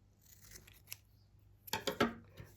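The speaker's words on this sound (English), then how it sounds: "So you're going to cut a little piece and make it pointy at one end." Scissors snip a small pointed piece of recycled material for a honeybee craft, a few faint cuts followed by a cluster of crisp, louder snips close by.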